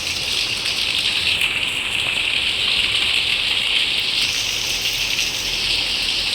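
Heavy rain falls steadily during a week of downpours, a dense, continuous hiss close by with no break across the whole stretch.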